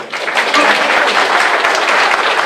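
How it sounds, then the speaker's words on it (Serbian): A wedding crowd at Dubrave Đurđevik claps in sustained, dense applause that stays loud and even from start to finish. "može malo jači aplauz"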